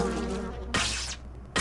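Wasps buzzing from a nest in the video game Nox, a close, steady insect drone with brief louder bursts.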